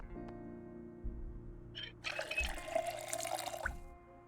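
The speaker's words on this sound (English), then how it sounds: "We need to fill up our water bottle." Water runs from a tap into a bottle in the video game Project Zomboid, a soft splashing gush that starts partway in and continues over a low background hum, with no speech.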